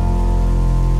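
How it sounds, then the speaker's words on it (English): Steady pattering rain falls near a campfire by tents, a dense even hiss with a low rumble, constant and unbroken. "Against a backdrop of campfire light and pattering rain, Io can see men dining in their tents"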